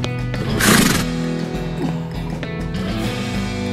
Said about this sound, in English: See the dark horse